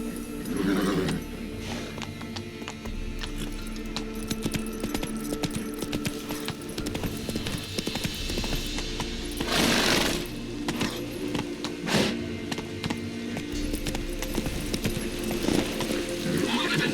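Roach the horse gallops in The Witcher 3, with steady, rhythmic hoofbeats running close and continuous, a brief whinny, and louder bursts of action partway through.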